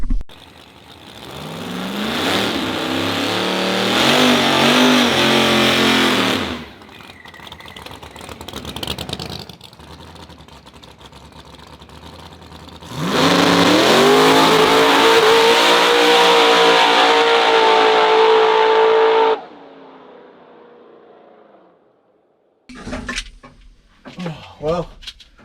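A procharged Hemi-powered Mustang drag car makes a pass, two long, loud bursts of rising engine roar as it accelerates hard, with quieter rumbling between them and scattered short noises after.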